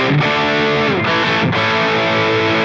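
Thick, saturated distorted electric guitar chords from a Kiesel Aries bridge pickup ring out loud and sustained, with a couple of quick chord changes and no voices.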